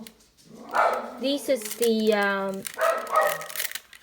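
A dog barks and yips several times, a sharp run of barks in the middle, while a person keeps talking over it.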